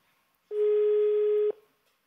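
Telephone line tone from a dropped call during a live TV phone-in broadcast: one steady, loud tone lasting about a second, opened and closed by sharp clicks, with silence on either side.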